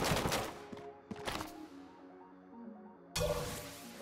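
Gunfire from a drum-magazine gun in the video game Enter the Gungeon, several rapid bursts of sharp shots separated by short gaps, with ringing game tones in between and a final loud burst at the end.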